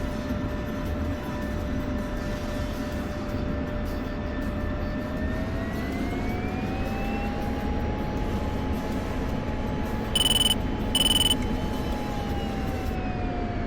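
A steady whining jet engine drones from an F-16 Viper taxiing on a runway in a flight simulator, its tones slowly rising in pitch as it rolls, with two brief beeping alerts near the end.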